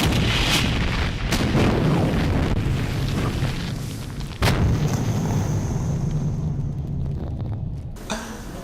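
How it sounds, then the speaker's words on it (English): Explosion sound effect: deep booming blasts and rolling rumble, loud and continuous with sharper cracks at a few points, resembling artillery fire, with no voices. "This reminds me of explosions, which are also unpleasant."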